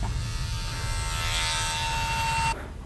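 An electric hair clipper buzzes steadily up close for a few seconds, a constant high-pitched hum that cuts off abruptly near the end.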